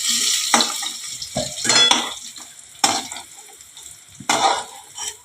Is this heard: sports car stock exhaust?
no